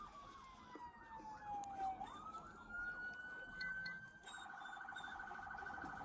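A police car siren wails and sweeps in pitch, then shifts to a rapid yelp during a pursuit through Tampa, heard from a moving vehicle over road rumble.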